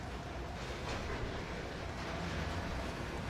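A train rolling along rails in the Trainz simulator on a Riverton route, a dense, steady rumble with no distinct clacks, loud and continuous throughout.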